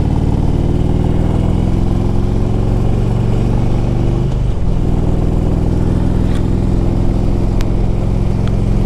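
A 2002 Harley-Davidson Electra Glide Ultra motorcycle cruises along the road, its V-twin engine rumbling loud and steady close by with a brief dip in revs midway, no one speaking.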